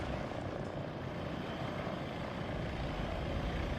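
An Apache attack helicopter in the military strategy game WARNO drones with a steady rotor and engine roar, dense and continuous for a few seconds with no talk.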